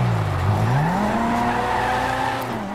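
A Grotti Furore GT engine revving hard at its 9,000 RPM redline in GTA 5, a loud continuous roar that rises and wavers in pitch, heard alone.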